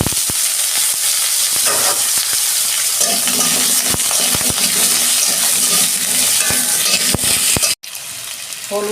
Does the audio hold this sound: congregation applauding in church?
no